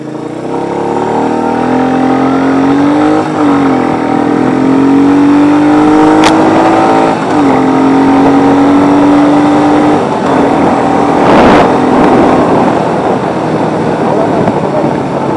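A Royal Enfield Meteor 350 motorcycle is ridden with a steady, loud engine drone that rises and falls as the throttle changes. Wind noise rushes over it and a rider talks at times.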